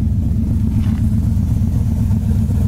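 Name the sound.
1970 Camaro engine revving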